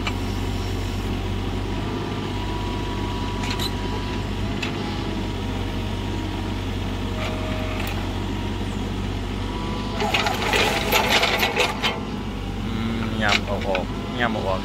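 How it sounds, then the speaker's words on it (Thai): A motor pump runs steadily with a constant low engine hum and drone, close and continuous, while a person talks over it and brief rattling bursts rise partway through. "เป็นมอเตอร์ปั๊มครับ"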